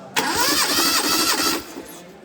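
A car engine cranks over on the starter with a compression tester fitted in a spark plug hole, giving a loud, close, rapid rhythmic churning for about one and a half seconds before stopping.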